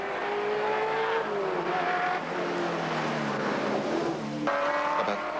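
Cadbury Schweppes race car at the 1980 Hardie-Ferodo 1000 at Bathurst, its engine a loud, sustained roar with gear changes shifting the pitch up and down, close and continuous.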